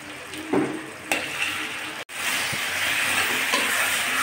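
Chopped tomatoes and coriander fry in a pan, giving a steady close sizzle and hiss with a few scraping stirs and a brief sharp knock partway through.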